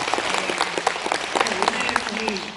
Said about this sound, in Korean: 다시 한번 큰 박수 부탁드리고요